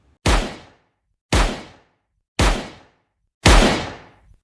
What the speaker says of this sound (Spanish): Gritos, tensión y después, disparos.